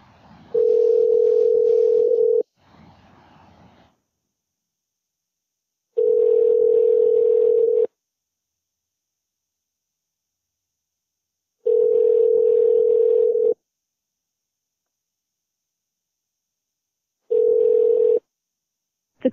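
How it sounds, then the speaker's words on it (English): An outgoing phone call rings back with a steady electronic tone in bursts of about two seconds, separated by longer silent gaps, repeating four times clearly and alone. "It's ringing."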